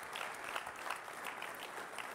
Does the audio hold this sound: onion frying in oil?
no